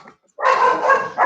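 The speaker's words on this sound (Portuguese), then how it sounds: "Minha cachorra, estão ouvindo" A pet dog barks and yips in a loud, close burst lasting about a second, after a brief quiet pause, with no talk over it.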